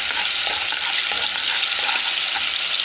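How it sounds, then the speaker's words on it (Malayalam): Ginger garlic paste and dried chillies fry in hot ghee for restaurant-style gobi manchurian, giving a steady, dense sizzle that holds evenly throughout with no voices. "ഇഞ്ചി വെള്ളുള്ളി പേസ്റ്റ് ഇടുക നല്ല ഫ്രൈ ആക്കിയിട്ട് കായ്മുളക് ഇടുക ഫ്രൈ ആക്കിയിട്ട്"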